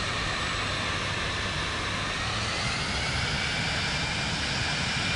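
An airplane engine in Microsoft Flight Simulator 2024 drones steadily as the aircraft taxis, a constant even rumble and hiss that holds at one level throughout with no voices.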